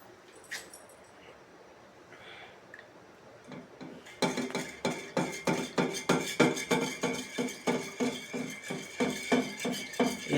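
A spoon clinks rhythmically against a glass jar while honey is stirred into homemade ginger, garlic, lemon and apple vinegar medicine: quiet handling at first, then steady, bright repeated taps from about four seconds on, with no talking.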